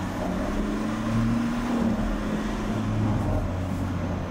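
A Ford Ranger Stormtrak's engine runs and revs in a steady low drone, close and fairly loud, with no talking.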